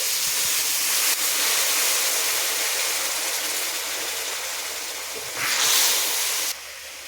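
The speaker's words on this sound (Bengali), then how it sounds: "তো জলটা ফুটতে আরম্ভ করেছে" Water comes to a boil in a pan over fried ginger and garlic for a potato curry, giving a steady close hiss and rush of steam that briefly grows louder, then drops.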